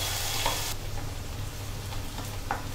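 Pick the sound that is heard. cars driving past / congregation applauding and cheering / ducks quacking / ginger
ginger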